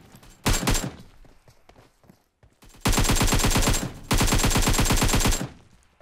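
Gunfire in the mobile battle-royale game PUBG Mobile: a short automatic burst, a quiet gap, then two long sustained bursts of rapid loud shots, with no talking.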